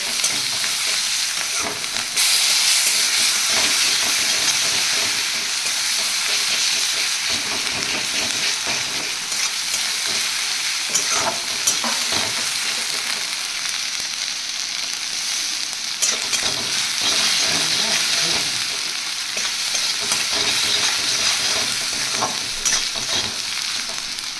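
Bengali fish curry (macher jhal) with garlic and ginger cooks in a pan, giving a continuous loud sizzle of frying oil over a long stretch, broken by repeated scraping and clinking as it is stirred.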